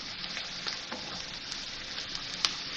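Onions and freshly added carrots sizzling steadily in a hot pan, a continuous moderate fry with small crackles and pops throughout.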